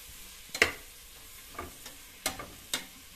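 Chili and coriander powder being stirred in a pan for chicken biryani: a few soft scraping strokes and light sizzles, close and quiet, separated by short pauses.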